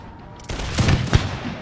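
Musket volleys fired at artillery in a Total War battle, a burst of crackling shots starting abruptly and rolling on with a few stronger cracks, close and fairly loud.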